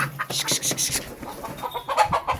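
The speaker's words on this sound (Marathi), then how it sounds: "बघ ना सगळ्या कोंबड्या खातात" Chickens cluck in quick, choppy bursts close by, a busy repeated series of short calls with some rustling underneath.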